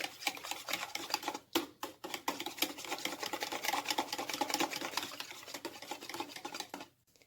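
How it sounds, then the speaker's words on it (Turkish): A whisk beats yogurt and an egg into a sauce for a potato börek, with quick, steady scraping and rattling strokes that run nearly nonstop before stopping near the end. "4'te 3 su bardağı yoğurt ve bir tane yumurtayı ekleyelim, çırparak sosunu hazırlayalım."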